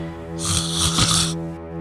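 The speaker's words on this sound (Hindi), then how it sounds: "बड़ा खर्राटे भर रहा है।" A man snores loudly once, a long, rasping, throaty rattle that swells and fades within two seconds over a quiet hum.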